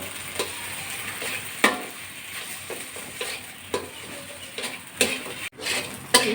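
Drumstick leaves frying with salt and turmeric, a constant close sizzle with intermittent spatula scrapes and stirring strokes against the pan, no speech.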